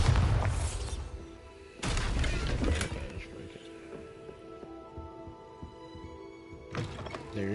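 A Bombarda blasting spell goes off in Hogwarts Legacy, two heavy booming bursts with crackling debris, then a quieter rumbling tail and another burst at the end.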